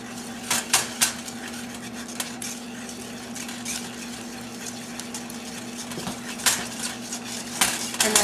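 Egg gets beaten into brownie batter in a bowl, with a utensil scraping and clinking against the sides in quick irregular strokes over a low steady hum, close by and with no talking.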